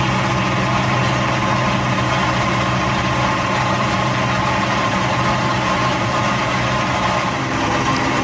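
Supermarine Spitfire piston engine in flight over the Isle of Wight countryside, a loud, steady, unbroken drone filling the whole stretch with no talk.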